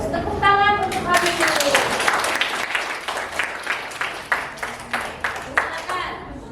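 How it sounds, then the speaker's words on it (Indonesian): Classroom applause for a pupil in an eighth-grade civics lesson, a burst of many clapping hands that thins out into a few scattered, rhythmic claps, with voices talking near the start. "Tepuk tangan untuk Abi."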